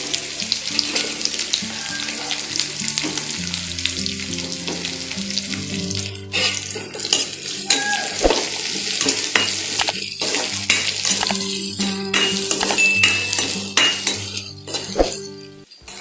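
Chopped onion frying with browned chopped garlic for a jute leaf stir-fry: a continuous hissing sizzle runs throughout, broken by frequent clacks and scrapes of a spatula on the pan, close and fairly loud.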